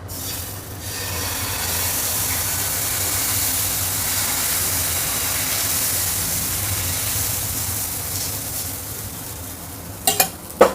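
Multigrain dosa batter sizzles steadily on a hot griddle, a soft continuous hiss up close, ending with a few sharp scraping clicks.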